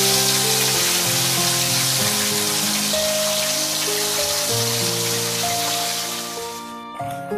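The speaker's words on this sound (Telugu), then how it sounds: "ఇప్పుడు రిమైనింగ్ కాకరకాయ ముక్కల్ని కూడా ఇలా వేసుకొని ఇదే విధంగా ఫ్రై చేసుకోవాలి" Bitter gourd pieces frying in hot oil give a steady, even sizzle throughout, with background music playing over it, and the sound drops away near the end.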